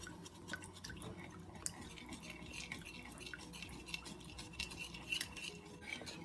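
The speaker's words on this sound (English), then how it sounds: "Give this a quick whisk until it's well incorporated." Quick whisking of pure vanilla extract and canola oil into wet pancake batter ingredients, a steady stream of light metallic clinks and scraping taps against a bowl, close and fairly quiet, with no talking.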